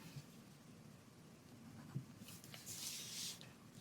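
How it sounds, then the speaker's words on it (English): A pen scratches across paper in short, quiet strokes, close and faint, with a brief scribbling burst near the end. "So let's go ahead and write that down."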